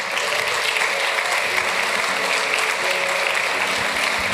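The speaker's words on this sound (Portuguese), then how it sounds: "Pode aplaudir o Senhor." Steady, dense applause from a church congregation praising during a Portuguese-language sermon, continuous and even throughout without breaks.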